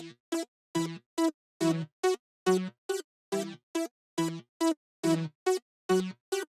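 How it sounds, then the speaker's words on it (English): Choppy synth preset LFO Saw 1 from Xenology, built in FL Studio, pulses in short gated bursts about twice a second, each burst a buzzy harmonic-rich tone with a low thump underneath, playing alone with no voices. "It's called LFO Saw 1."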